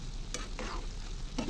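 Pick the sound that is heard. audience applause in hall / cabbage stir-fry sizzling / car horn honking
cabbage stir-fry sizzling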